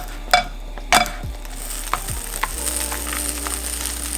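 A tortilla quesadilla filled with reduced-fat mozzarella cooks in a pan with a steady close sizzle, two sharp clinks of a utensil against the pan near the start, and no talking.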